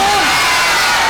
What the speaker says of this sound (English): And the crowd goes bananas to our left-hand side here